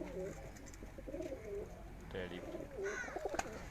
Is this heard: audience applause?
no